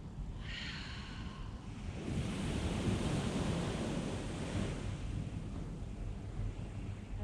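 Ocean surf rolls in as a broad, hissing wash that swells after a couple of seconds and then slowly recedes, steady and fairly close, with some wind roughness and a faint breathy sound at the start.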